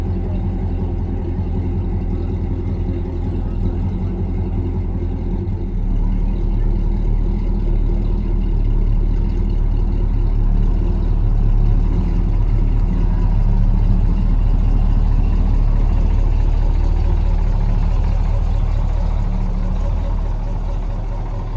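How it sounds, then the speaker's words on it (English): A VW Scirocco at a busy car meet at a moto cafe, its engine burbling with a deep, steady, loud rumble that thickens partway through, set against faint background crowd chatter. "And the VW Scirocco, which is very burbly."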